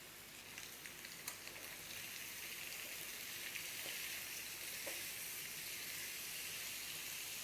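Carrot pieces go into a pan of half-cooked chicken for Chicken Maggi, and a steady, hissing sizzle runs throughout, broken by a few faint clicks and taps.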